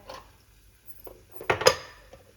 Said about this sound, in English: mix this in really well, and add my cooked lentils